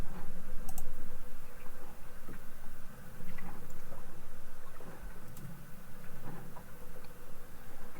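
Mouse clicks on a computer during a software installer, a few sparse, faint clicks over a steady background hum with no talking.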